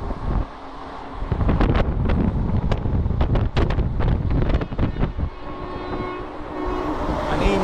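A crowded passenger train stopped at Lasur station on a journey to Mumbai rumbles and rattles steadily, with clanks and wind buffeting the microphone near an open door; no voices.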